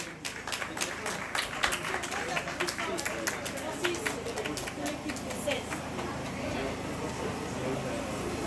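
Audience applause for the Rivet sportif du Gros Mont sports team at a Martinique awards ceremony, a dense, steady wash of clapping from a crowd lasting throughout, with no talk over it.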